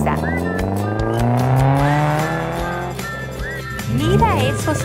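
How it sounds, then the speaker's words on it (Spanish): Cars race away fast with revving engines and a squeal of tyres, loud and close and swelling near the end, while a voice reads aloud over it. "Los perros se van en sus autos."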